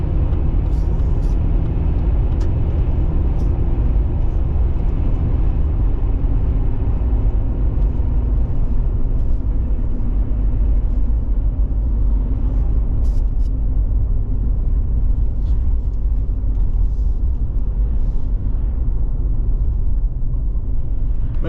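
A Chevrolet Z71 4WD truck engine drones steadily throughout, a continuous low rumble of winter road driving and a U-turn, with no voices, loud and close.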